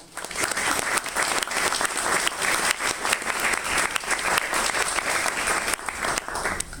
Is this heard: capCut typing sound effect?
no